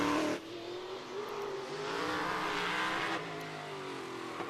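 An Outlaw race car laps Auburndale Speedway in Florida, its engine droning loud and steady with a rising, shifting pitch as it runs past, alone without talk.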